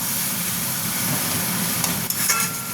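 Prawns cooking down with tomatoes in a hot pan, a loud continuous sizzle with stirring, a few sharp scraping clicks of the spatula near the end, and no voices.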